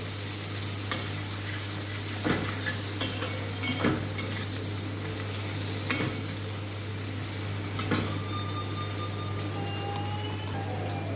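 Garlic, onion and green chili paste with spices fries in a pan for a Bengali katla fish kaliya, a steady sizzle with periodic sharp clacks of stirring, close and continuous under a low hum.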